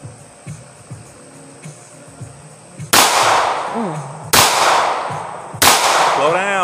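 Three loud, sharp gunshots ring out at a target range, each with a quick attack and a ringing decay, spaced about a second and a half apart after quieter handling sounds and faint talk.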